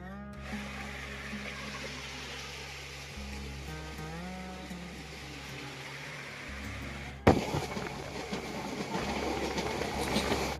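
A passenger train on the Konkan railway gives a continuous low rumble and rattle, then turns abruptly louder and harsher partway through as the wheels clatter on.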